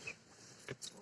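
Keys jangle faintly near a car in a village setting, two or three brief metallic clinks in quiet ambient noise.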